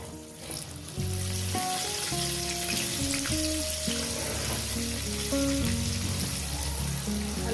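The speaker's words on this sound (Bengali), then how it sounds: "এবার সুন্দর করে লাল লাল করে ভেজে নেব" Potatoes fry in hot oil with salt and turmeric, giving a continuous crackling sizzle under background music with clear melodic notes throughout.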